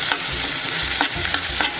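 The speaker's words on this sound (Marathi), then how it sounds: "तो पण आपण व्यवस्थित मिक्स करून घेऊया भाजी" Malvani-style pavta and potato vegetable being stirred in a pan, spoon scraping rhythmically through sizzling frying food, close and clear with several scrapes in under two seconds and no talking.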